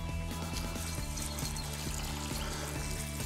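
Water poured into a bowl over small 1–2 mm fishing groundbait pellets to soak them, a steady trickling pour under a constant low hum, faint and continuous.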